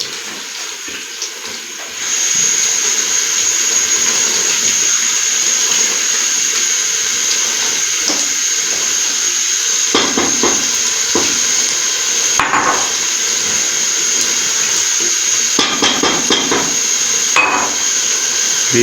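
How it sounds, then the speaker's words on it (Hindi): Raw beef stirred into hot fried masala in a cooking pot for restaurant-style beef biryani, giving a steady close sizzle with intermittent scraping and clattering of the spoon against the pot. "बीफ को व्यूअर्स हमने मिक्स कर दिया"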